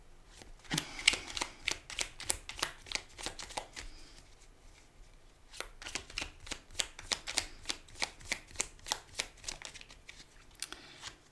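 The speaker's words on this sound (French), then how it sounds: "Je vais vous tirer une petite carte." Tarot cards are shuffled by hand in quick riffling bursts, then drawn, giving a dense run of soft papery flicks and snaps that pause briefly midway, quiet and close.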